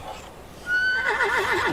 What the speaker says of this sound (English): The horse is so bloody loud. I really don't like how loud the horse is.